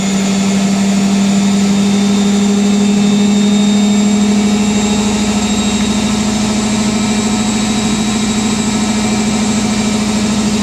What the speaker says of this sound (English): so it even does a fast intermediate spin